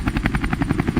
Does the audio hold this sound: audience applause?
no